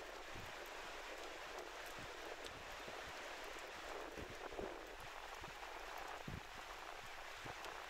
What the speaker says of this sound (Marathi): आज सकाळपासूनच मुंबई शहरातील कांदिवली, बोरिवली, मालाड, अंधेरी, दहिसर आणि विलेपार्ले या उपनगरांमध्ये पावसाच्या सरी कोसळत आहेत